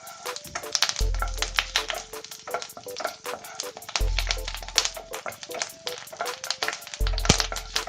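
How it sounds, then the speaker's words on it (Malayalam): Curry leaves fry in hot coconut oil with a busy, crackling sizzle, dense rapid pops and spatters heard up close. "ഈ കറിവേപ്പില ഒന്ന് ചെറുതായി ഫ്രൈ ആയി വരുമ്പോഴേക്കും"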